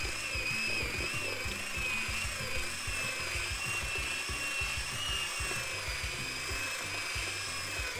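A screw gun used as a drill with a paddle whirs steadily while stirring joint compound with a little water, a close, continuous high motor whine with a churning, irregular low slapping underneath.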